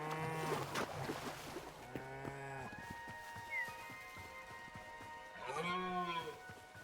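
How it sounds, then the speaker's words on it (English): Several cow moos from Hytale's farm animals, a long low call near the start, another around two seconds and a louder one near the end, over steady in-game background tones. "Cow."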